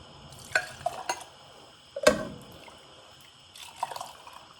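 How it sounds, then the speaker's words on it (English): Soup ladled into a cup, with a few soft liquid pours and spoon clinks, one sharper clink in the middle, close and quiet with no talk. "Ladle some into this cup."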